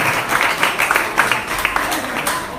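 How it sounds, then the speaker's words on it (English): Audience at a primary school spelling bee contest applauding a placed school, a dense, even wash of many hands clapping at moderate loudness, with faint voices mixed in. "give them a rousing round of applause"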